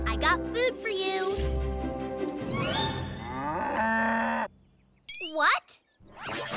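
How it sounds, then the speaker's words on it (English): A cartoon cow moos in a children's animated train show, with long drawn-out moos alternating with character speech and music throughout. "How do you moo?"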